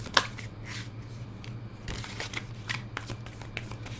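Tarot cards being shuffled and handled by hand, a run of soft papery flicks and riffles in short bursts with small taps, close and fairly quiet, with no talking.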